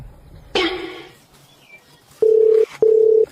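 After a short rustle, two steady electronic tones sound in sequence, like a phone ringing on a call, clear and close.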